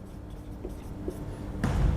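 Marker or chalk scratches on a board during a physics lesson on the work-energy theorem, giving a few faint short strokes over room noise, with a louder rub near the end.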